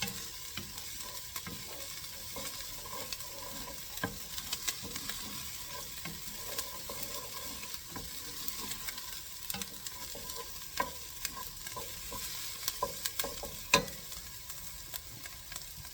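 Sausage rice fries in a pan while being stirred, a steady close sizzle broken by scattered scrapes and taps of the utensil, with no talk.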